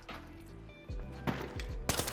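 Several sharp gunshot bursts from the game Arc Raiders ring out, irregularly spaced, with a loud cluster of shots near the end over background music.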